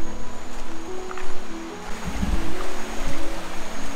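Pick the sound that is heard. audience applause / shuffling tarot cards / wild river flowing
wild river flowing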